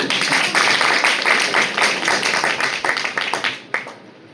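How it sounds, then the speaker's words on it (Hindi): An audience at an academic gathering with professors from several colleges breaks into loud, dense clapping that holds steady, then thins and trails off into a few last scattered claps. "तो एक बार ताली तो बजा दो"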